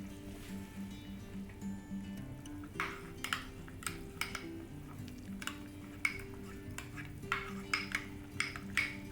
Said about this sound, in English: stirring the sauce until it's thickened.